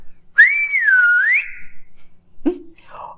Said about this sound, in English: You could whistle